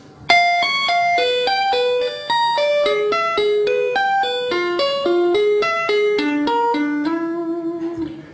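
A fast, clean electric guitar tapping lick of bright legato notes, cascading steadily downward in pitch, played alone with a sustained final note.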